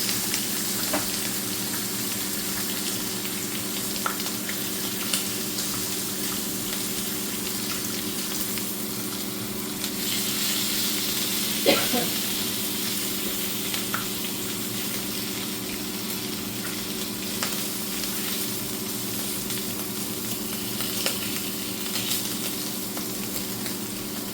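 Bacon frying in oil on an Emtronics induction hob, a steady close hiss and sizzle that runs unbroken throughout, with occasional small pops and crackles and no talking.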